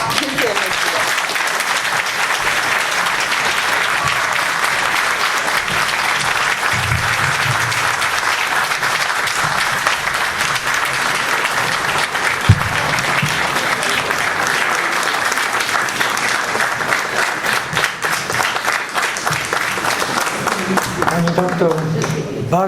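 A lecture audience applauds in a long, steady burst of dense clapping that stays loud and even for over twenty seconds, with a few faint voices showing near the end.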